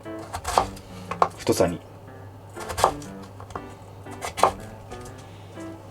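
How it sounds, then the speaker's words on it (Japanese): A knife cuts halved potatoes into thin fry-width strips on a cutting board, giving several sharp chops close to the mic amid a steady background hum, while a person speaks between the cuts. "半分に切って、薄切りにしたら"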